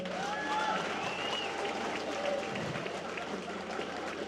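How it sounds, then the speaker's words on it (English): Applause from an audience at a celebration in Guyana, a fairly quiet, steady patter of clapping from a crowd that carries evenly through the moment with some faint murmuring underneath. "Round of applause to that."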